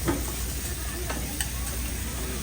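Large skewered squid sizzles on a grill at a food stall, a continuous crackling hiss with faint ticks, heard close and steady at moderate volume.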